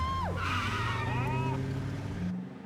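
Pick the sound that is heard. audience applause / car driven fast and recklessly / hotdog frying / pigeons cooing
car driven fast and recklessly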